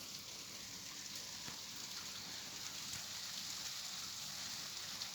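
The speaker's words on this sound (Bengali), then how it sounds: "আজকে বৃষ্টি হচ্ছে, আমাদের এখানকার ওয়েদার বৃষ্টি হচ্ছে।" Light rain falls on a cloudy winter day abroad, making a faint, steady patter and hiss that continues evenly with no voices.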